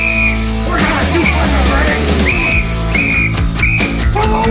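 During hard physical training, a whistle gives several short, shrill blasts that repeat over a loud, busy scene. Shouting voices and clattering noise run underneath.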